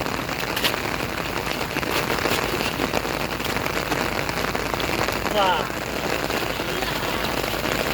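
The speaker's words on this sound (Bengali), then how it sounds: "একশো জুম বৃষ্টি হইতেছে জুম বৃষ্টি" Heavy rain pours steadily during flooding, a dense continuous hiss close by that stays loud throughout, with faint background noises mixed in.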